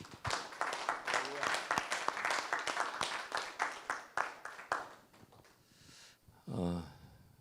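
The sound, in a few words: church congregation applause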